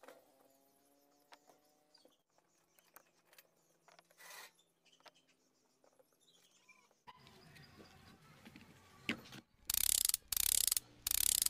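Greased gearbox gears of a monster RC truck whirring and clicking, faint mechanical rattling at first, then louder grinding bursts in short repeated runs toward the end.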